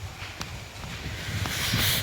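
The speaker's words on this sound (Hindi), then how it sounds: "आहा, क्या हवा चल रही है," Cool wind blowing outdoors at a park in Coorg after recent rain, a steady rushing breath that buffets the microphone and grows stronger toward the end, with a few faint clicks and knocks in between.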